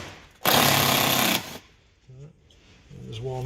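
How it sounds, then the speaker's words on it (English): A power driver runs for about a second to undo T25 Torx bolts on a VW Tiguan Mk2 wheel arch liner. It gives a loud, continuous buzzing whir, followed by quieter talk and handling noises. "we're undoing the Torx bolts for the arch liner and the arch trim"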